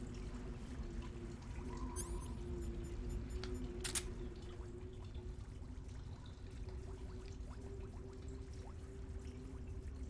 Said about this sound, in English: Dripping waterfall.